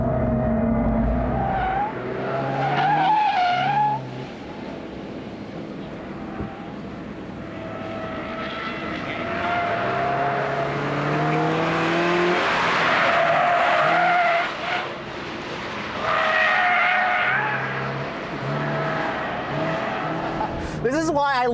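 A 2022 Subaru BRZ rear-wheel-drive sports car slides out with long tire squeals over a rising and falling engine note, loud and close, while someone talks over it.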